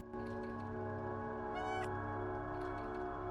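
Cat meowing in the video game Stray, one short meow rising over a steady background of layered ambient game music and tones.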